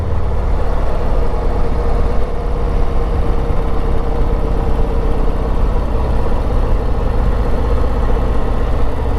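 A 2024 Harley-Davidson Street Glide motorcycle engine drones steadily while riding the Tail of the Dragon mountain road, a loud, constant low rumble mixed with wind noise throughout.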